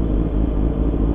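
A motorcycle engine rumbles low and steady up close during a Sunday morning group ride, a brief continuous drone without a clear rising rev.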